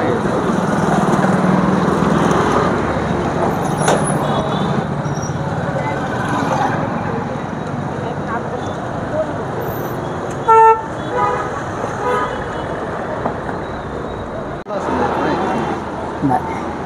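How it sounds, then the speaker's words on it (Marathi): A vehicle drives along a town road in Shirur with a damaged divider, its engine hum rising and fading beneath street noise, with a short horn toot partway through. "पाहू शकता आपण ही गाडी या ठिकाणी चाललेली आहे।"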